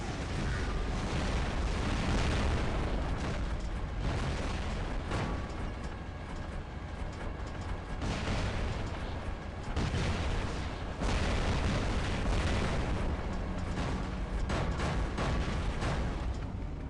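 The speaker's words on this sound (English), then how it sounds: "I'm just gonna fire here so that I can get this reloaded, and I'm gonna take this guy out." Robot weapon fire and explosions in the War Robots video game, including Bulwark and Falcon robots, make a continuous loud barrage of booms, blasts and mechanical gunfire for the whole stretch, with no voices.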